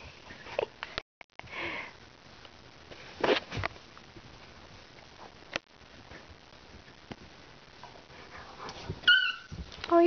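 A puppy sniffs in short bursts, snuffling close by, with a few faint high whimpers near the end and quiet pauses between.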